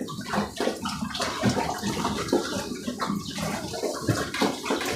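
Water splashing and sloshing as it is stirred into pig feed for three-month-old pigs on a Thai farm, a steady near wet churning with irregular pours and slaps throughout.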